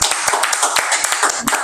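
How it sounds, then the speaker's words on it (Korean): A small group indoors claps in a quick, uneven burst of close hand claps, lasting under two seconds. "부모님한테 박수 한번 드리겠습니다"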